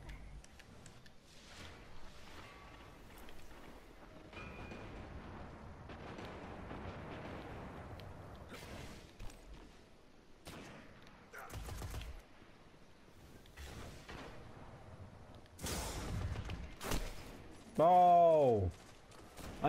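Gunfire from hand cannons and machine guns in the shooter game Destiny during an Iron Banner match, scattered bursts and sharp blasts of varying loudness with a chaotic game soundscape, while a player talks over the action.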